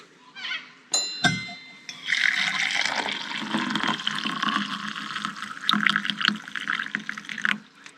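Coffee pours steadily into a mug for several seconds, a continuous splashing gurgle close by, preceded by a couple of brief clinks.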